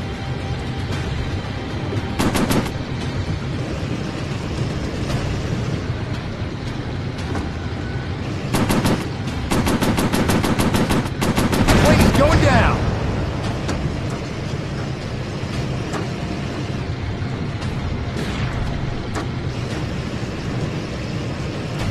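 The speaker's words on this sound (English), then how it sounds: "Gonna use cannons." Rapid bursts of aircraft cannon fire in a warplane video game rattle out in several short volleys over a constant engine drone, with a louder cluster of shots near the middle.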